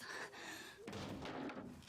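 A door is flung open hard in a Demon Slayer anime scene, producing a single heavy slam and thud that rings over a quiet, dull background.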